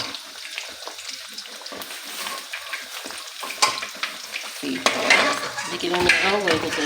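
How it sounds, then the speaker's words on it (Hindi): Sizzling and crackling of seekh kebabs frying in hot oil, with scraping and clinking of a utensil against the pan, growing louder toward the end. "अब देख सकते हैं कि हमारी सीख कबाब फ्राई होने जा रहे हैं"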